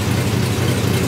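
A 1951 Ford F1 truck engine idles close by, a steady, low, rough rumble with no other sounds.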